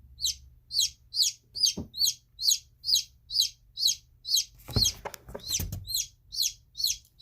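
A newly hatched chick peeps loudly and steadily, roughly two high, sharp calls per second, close by and without a break, with a few brief handling thumps and rustles partway through.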